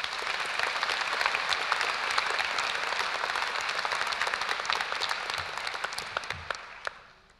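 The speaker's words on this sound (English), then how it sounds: "Could I please ask everyone to join me in a round of applause for Ms Hornsby?" A graduation ceremony audience applauds for several seconds in a steady, dense wash of clapping that thins and fades out at the end.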